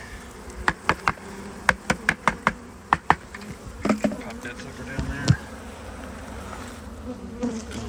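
Angry honey bees swarm around a house during a bee removal, a dense buzzing hum broken by a run of sharp taps and knocks from the bucket equipment, with a brief spoken remark.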